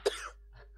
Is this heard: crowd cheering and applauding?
no